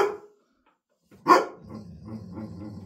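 A neighbour's dog gives one sharp, fairly close bark after a short silence, followed by a low rumbling growl-like tail.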